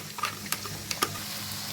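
Finely chopped onions fry and sizzle steadily in hot oil for a curry, with a few sharp spoon scrapes and stirs against the pan, close and alone.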